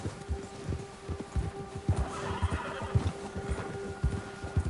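A horse in Red Dead Redemption 2 neighs while its hooves clip-clop in a steady, close rhythm, with stormy ambience behind.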